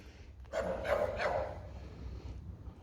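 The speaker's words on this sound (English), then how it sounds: "I think they just leave the dog there as a little yappy guard dog." A small guard dog at an abandoned mill barks faintly in the distance, a short burst of two or three yaps over quiet background noise.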